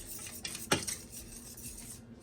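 Butter is whisked into flour in a pan on the stove, producing brief metallic scraping and clinking of the whisk against the pan, close and faint, with one sharper clank.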